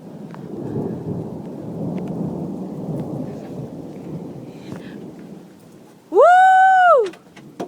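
A thunderstorm in Prince George rolls on with a long, low rumble of thunder over steady rain, fading out before a loud tonal electronic sweep cuts in near the end.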